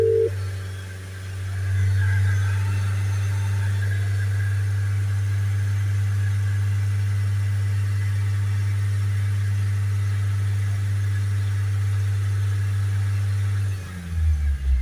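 A Vauxhall Vivaro van's diesel engine with a blocked particulate filter, held at steady raised revs under the accelerator: a constant loud droning hum for about fourteen seconds, then a brief shift in tone as it drops back at the end.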